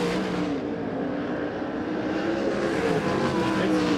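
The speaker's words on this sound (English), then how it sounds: "Kyle Shipley is starting to pull away from Bruce St. James, who might have lost his chances that last time by through turns 3 and 4" Sprint cars racing on the Arizona Speedway dirt track during an ASCS Desert Sprint Car main event, a steady loud engine roar that holds throughout without a break.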